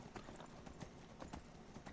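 A horse gallops in the Skyrim video game, rapid rhythmic hoofbeats in a steady repeating clip-clop pattern, faint and continuous over background game ambience.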